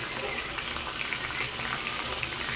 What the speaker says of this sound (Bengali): এই যে আদা রসুন বাটাটা বেটে রেখেছি আগে থেকে, সেটাও আমি এতে দিয়ে দিচ্ছি